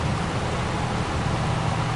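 Steady rain falls in Farming Simulator 22 during a sunflower harvest on a farm property, a dense, even hiss with a low rumble beneath it, continuous and fairly loud for the whole stretch with no voices.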